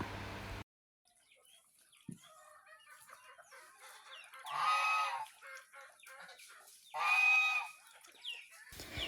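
Geese being raised on a farm give two loud, harsh honking calls a couple of seconds apart, with quieter rustling and scattered farmyard noises in between.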